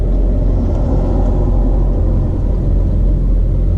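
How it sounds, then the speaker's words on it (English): Trucks parked and idling at a busy truck stop in Townsville at night, a loud, steady low diesel rumble close by with no break. "I got close to where the trucks are parking, which makes it noisy"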